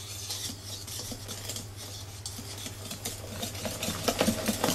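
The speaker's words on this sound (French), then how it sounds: "On mélange énergiquement pour éviter la formation de grumeaux." A whisk or spoon beats chocolate madeleine batter vigorously in a bowl, giving a quick, steady scraping and stirring rhythm at moderate volume with a low steady hum beneath.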